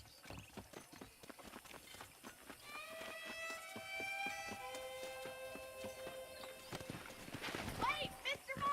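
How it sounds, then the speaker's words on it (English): Horse hooves clip-clop in Red Dead Redemption, a steady patter of hoofbeats running throughout beneath a spoken voice and a rising musical tone near the middle. "The horses are saddled up over here."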